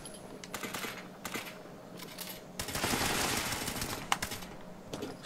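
Automatic weapon fire in Fallout 76 during a PvP fight at a workshop: rapid rattling bursts of gunshots, moderately distant, repeated over several seconds with brief pauses.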